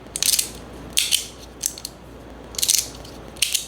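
Ratcheting rattle from a 3D-printed Verkk toy with a hybrid setup, sounding in quick bursts of dry clicking at irregular intervals, close and fairly loud.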